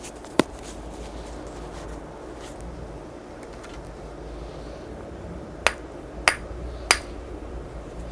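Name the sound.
knocking a flake off a rough flint stone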